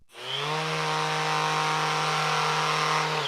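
A Rutlands sander, checked from one metre away, spins up quickly and holds a loud, steady motor drone with a rough, buzzing edge, without voices.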